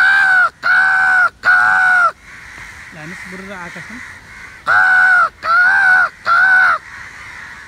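Crows in a tree give loud, close, harsh caws, three in a quick series, then a pause while someone speaks, then three more in the same rhythm.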